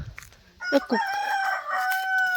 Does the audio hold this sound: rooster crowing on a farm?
yes